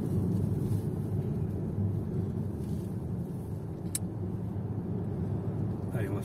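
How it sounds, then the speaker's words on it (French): Mazda MX-30 accelerating onto an expressway from a roundabout, heard from inside the cabin as a steady low road and motor rumble with wind noise, with a person speaking over it. "on accélère un petit peu pour l'insertion de voie rapide sur le rond-point."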